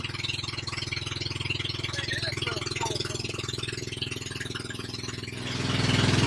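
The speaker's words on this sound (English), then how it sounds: "we're about to fire up the engines and roll out on this three-hour tour" Pump boat engines on Subic Bay chug in a low, steady idle close by, with a faint rattle throughout, then swell louder near the end as another engine joins or the throttle opens.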